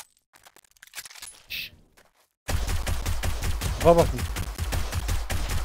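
Rapid gunfire from a weapon in the survival game 7 Days to Die, a loud continuous burst of shots in the second half after a quiet start with a few soft whispered words.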